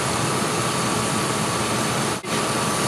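A car engine idles steadily under the hood during a vacuum-gauge check for an HVAC mode door fault, giving a constant broadband hum with one brief dip near the end and no talking.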